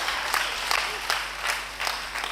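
Church congregation at a French-language sermon claps enthusiastically, a dense, continuous round of applause with rhythmic surges, filling the room without speech over it.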